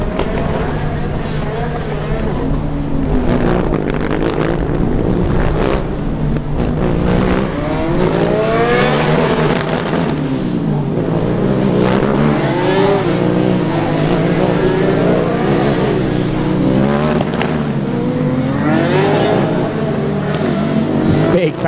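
A Coburg Formula Student race car runs the endurance track, its engine droning steadily and shifting pitch through a slalom while a commentator talks over it throughout.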